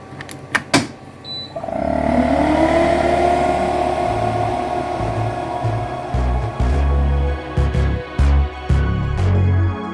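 A laser engraving machine starts up with a couple of sharp clicks, then a rising whine settles into a loud steady hum and whir, with uneven thumping and knocking underneath as it keeps running nearby.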